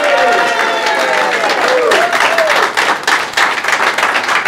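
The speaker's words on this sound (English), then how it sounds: "how about a big round of applause, ladies and gentlemen, Aarti Vincent" An audience at a comedy show applauds a comedian with loud, steady clapping, cheering and a few whoops, settling into more scattered claps in the final seconds.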